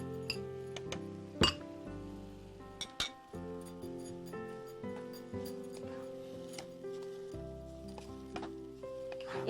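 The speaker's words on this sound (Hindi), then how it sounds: "इसको लगातार चलाते हुए कि दूध और चीनी अच्छे से मिक्स हो जाए, चीनी अच्छे से घुल जाए" A spoon clinks against a pot while stirring milk and sugar, sharp metallic taps at an irregular rhythm, some louder knocks standing out, with a low continuous tone underneath.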